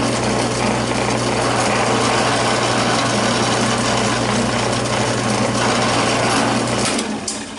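A loud, steady high-pitched motor whine runs continuously as a power drill with a small bit bores through a knife handle blank, then cuts off near the end.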